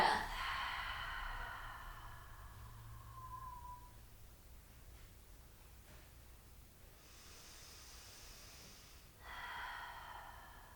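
Deep breaths drawn and released during a Pilates session on a mat: a long airy exhale, then quieter breathing and another audible hissing breath near the end, close and soft with no talk.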